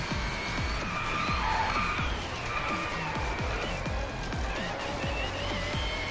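Electric race car in the racing game Driveclub, with a high, smooth whining motor that sweeps up and down as it accelerates, plus repeated thumps and tire noise across a steady, fairly loud stretch.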